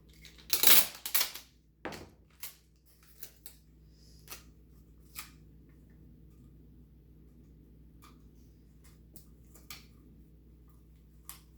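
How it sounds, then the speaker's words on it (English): Tape being pulled and pressed onto paper towel tubes, a few sharp crackling rips and taps near the start followed by sparse faint ticks in a quiet room. "I'm going to tape it."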